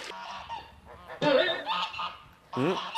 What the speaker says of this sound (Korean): 소리를 따라간 곳에서 발견한 것은 저수지 속으로 뛰어드는 거위